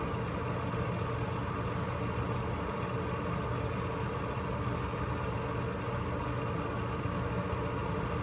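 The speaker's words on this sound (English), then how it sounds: "And I wish I could turn off that dang fan." A steady, unbroken mechanical hum with a low droning rumble from a bathroom exhaust fan running continuously nearby, with no voices.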